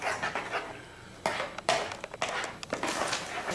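Eggs are stirred into a mixture in a bowl, giving scraping and clinking of a utensil against the bowl in an irregular rhythm, with a few sharper knocks, close and moderately loud.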